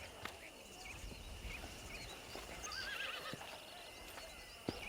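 A horse whinnies with a wavering, rising-and-falling neigh in the video game Red Dead Redemption, over faint background ambience, punctuated by a few sharp clicks.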